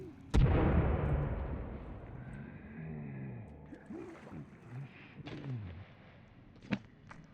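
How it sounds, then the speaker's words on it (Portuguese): A grenade blows up in the Sons of the Forest video game with one sudden, loud blast that rumbles away. Chirping creature calls and scattered clatter follow. "Vou tacar uma granada no pé deles aqui."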